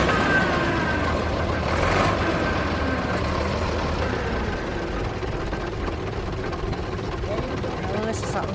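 A vintage bus at a Bournemouth bus rally drones steadily from the inside while riding, a loud, continuous low engine rumble throughout with no gaps.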